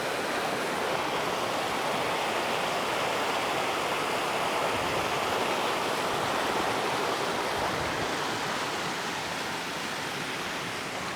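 A river in Jamaica after a Category 5 hurricane rushes loudly and steadily, a dense unbroken wash of flowing water that fills the whole stretch with no voices.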